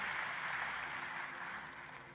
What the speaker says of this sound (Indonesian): Tepuk tangannya boleh yang paling dahsyat buat Yesus Tuhan kita